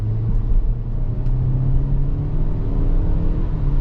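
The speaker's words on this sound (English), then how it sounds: "I'll show you though what the sport mode can do." A 2023 Kia Soul GT Line accelerates hard in sport mode, heard from inside the cabin: a loud, steady engine drone and road rumble that builds as the car picks up speed, with no talking.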